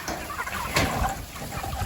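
Chickens cluck and chatter close by in a busy flock, with a short sharp burst partway through over a steady background murmur.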